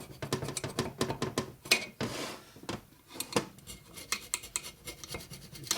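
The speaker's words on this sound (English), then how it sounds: "Time for a sharpening job here again." Metal file rasps in quick, repeated strokes against a long metal scraper, close and crisp, with short pauses between bursts of scraping.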